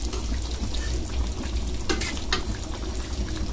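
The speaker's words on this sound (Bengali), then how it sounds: "এখন আলুগুলো দিয়ে দেব, দিয়ে আমি ভালোভাবে কষাবো।" Potatoes fry and get stirred in a hot pan while boal fish curry is being made. A steady, loud sizzle runs throughout, broken by a couple of sharp scraping stirs.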